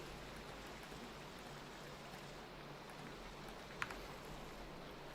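Steady soft rain hiss in modded Minecraft, a continuous even wash of falling drops with a faint click near the end, quiet and without talk.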